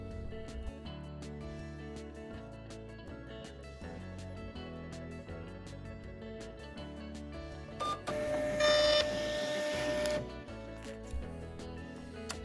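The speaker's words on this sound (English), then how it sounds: "The QR code is printed in the blank area of the prefabricated label." A label printer whirs steadily for several seconds printing a QR code onto a prefabricated label, with a brighter, louder burst of feeding noise near the end before it stops.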